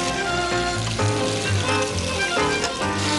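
Chopped onion and tomato sizzle and crackle steadily as they fry in a pan in a home kitchen, a continuous close hiss under a faint background hum.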